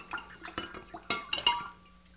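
Spoon stirring an Adonis cocktail over ice in a mixing glass, a quiet run of light clinks and taps settling into ringing glassy chimes toward the end, with no voices.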